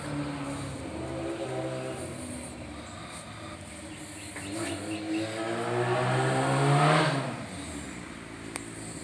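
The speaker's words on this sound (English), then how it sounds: "Gotta love them motorcycles" A motorcycle approaches and passes nearby, its engine rising to a peak then fading away, with faint insect or bird chirps in the background.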